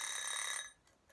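An egg timer's ringing bell, a rapid metallic trill that cuts off abruptly and leaves near silence, heard alone and fairly faint.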